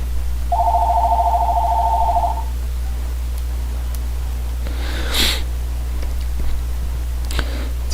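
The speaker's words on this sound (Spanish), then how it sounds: "Disculpen que estaba sonando el teléfono" A single telephone rings in a short electronic burst, near and clear, over a steady low hum in a quiet room, followed by a few faint bumps and a sniff.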